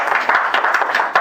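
An audience applauds at the founding general meeting of the Seoul Maritime Arbitration Association, held in the Korea Shipowners' Association auditorium. The clapping is dense and continuous, with sharp individual claps popping out over a steady crowd patter.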